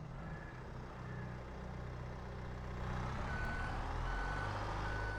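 Repeating reversing beeps sound from a truck in a farming video game, steady electronic tones over a continuous engine rumble that grows louder midway.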